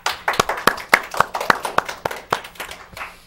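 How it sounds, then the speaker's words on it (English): Audience applause at a community talk-show taping, a sparse round of claps with distinct individual hand strikes, fairly close, lasting a few seconds with no talking over it. "A round of applause, please."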